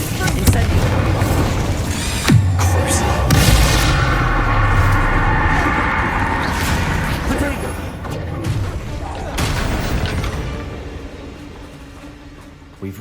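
Incendio fire spells burst in Hogwarts Legacy combat, a loud booming whoosh of flame up close layered over heavy rumbling impacts and game music, with a voiced character line heard through it.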